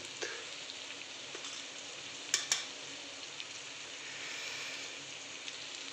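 Paneer fries with chilli in a pan for chilli paneer, giving a steady crackling sizzle with a few sharper pops and spatters, fairly quiet and with no voices.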